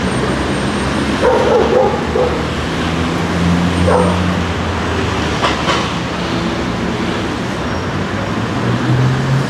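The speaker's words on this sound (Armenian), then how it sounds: "շունը համ մարդկանց է տանցնում է, համ վրաները հաչում է" A dog barking on a city street at night, a few sharp barks at moderate distance over steady traffic rumble and urban background noise.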